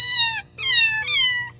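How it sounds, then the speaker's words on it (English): A cat meow sample played by a guitar through a Korg Miku pedal: three clear, high, whiny synthetic meows in quick succession, each sliding downward in pitch, over a low steady hum. "You got everything from the happy cat sound"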